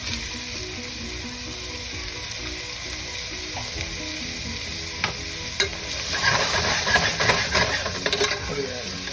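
Chopped onions and poblano peppers sizzling in a hot pan, a steady bright frying hiss that grows busier midway as they are stirred, with faint utensil scrapes.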